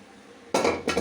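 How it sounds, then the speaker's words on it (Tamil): A spoon stirs boiled jackfruit pieces into tomato masala in a pan, striking the metal with two close, bright clanks after a quiet start. "போட்டு நல்லா மசாலா இது கூட சேர்கிற மாதிரி கிண்டி விடுவோம்"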